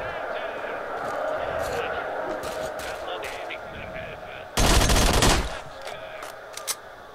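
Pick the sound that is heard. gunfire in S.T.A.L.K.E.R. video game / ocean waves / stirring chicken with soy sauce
gunfire in S.T.A.L.K.E.R. video game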